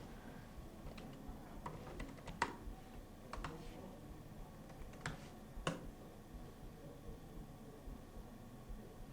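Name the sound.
typing a chat message on a computer keyboard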